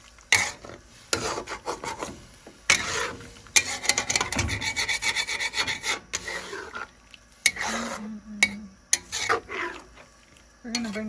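A utensil scrapes and rubs the bottom of a pan of simmering pork blood stew (dinuguan) in repeated rasping strokes, loud and close with a faint sizzle between them.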